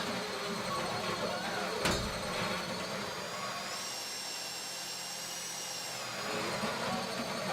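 A power drill whirs steadily with a mechanical grinding hum, a sharp clank near the start, and a pitch shift midway, all fairly faint, as it bores into a safety deposit box during the Fleca bank heist in GTA Online.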